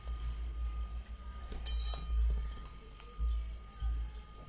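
Cucumber dosa avakaya pickle being mixed in a bowl, with scattered clinks and scrapes of a utensil against the dish and soft squishing, no talking.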